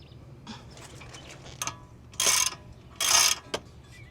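A wrench works the 17 mm nut on a project car's tie rod, making a few soft metallic clicks and then two louder, longer ratcheting scrapes, close and with no talk.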